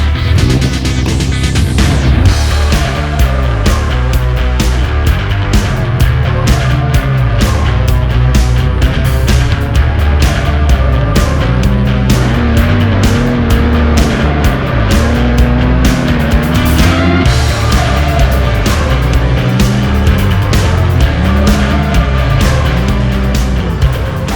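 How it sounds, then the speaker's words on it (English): A Polaris Khaos 850 Boost turbocharged snowmobile climbs a snowy hill. Its engine roars loud and steady for the whole stretch, with the pitch rising and falling as the throttle is worked, close and continuous. "I heard the turbos that time going up"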